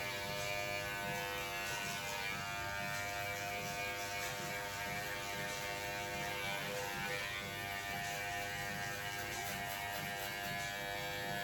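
An electric hair clipper fitted with a number 1 guard runs in a steady, faint, continuous buzz while it cuts hair, with no talk.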